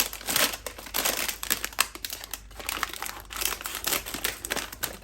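A plastic steam bag of stir-fry food crinkles and crackles up close as it is torn and pulled open, with no talking.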